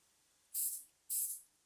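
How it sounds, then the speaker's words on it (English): Two short, close hissing bursts of accelerant spray misting over a fishing jig, evenly spaced with quiet between them. "What happens is that the spray actually goes around the whole thing, mists everything, and then it kind of dries up just like that."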